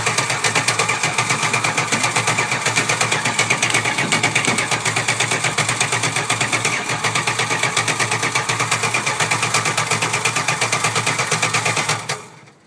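A carbureted Chrysler demolition derby car engine runs loud and steady with a rapid, even chug for about twelve seconds, then cuts out at the end.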